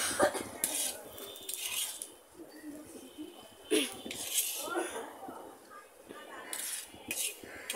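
Fried ginger, garlic and chilies being scooped from a pan, with repeated metal spoon scrapes and clinks against the pan in irregular bursts, close and moderately loud, with a voice speaking in between.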